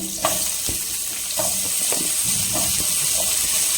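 Green capsicum fries in melted butter in a pan, a moderate continuous sizzle broken by intermittent stirring clicks and scrapes, without any voices.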